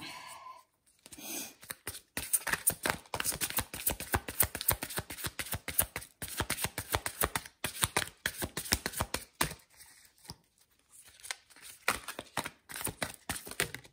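Tarot cards being shuffled and drawn from a deck, a dense run of quick riffling flicks and slaps that pause now and then, recorded close with no talking.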